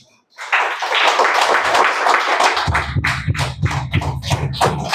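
Seated audience at a spiritual talk in Thrissur clapping in unison, starting after a short silence with a dense burst of claps that turns into rhythmic, regular beats over a low hum.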